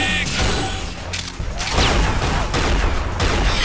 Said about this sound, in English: the secondary fire is explosive discs that fire really slow